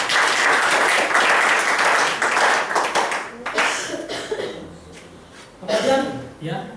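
Audience applause for Prudential at an Indonesian talk, loud dense clapping for about three seconds, then fading into scattered claps and chuckles with a voice beginning to speak.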